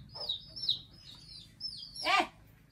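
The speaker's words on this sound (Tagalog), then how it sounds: "Tinatawag ako ng mga manokers." Chickens call and cluck faintly in a few brief bursts: high chirping notes, then a louder cluck near the end, with quiet between them.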